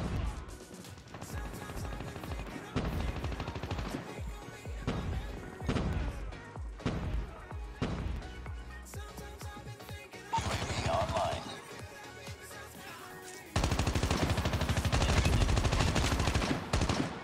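An automated sentry gun fires in Call of Duty Mobile amid a chaotic multiplayer match with a steady stream of gunfire, bursts and impacts, rising to a loud sustained barrage near the end, with occasional talk mixed in.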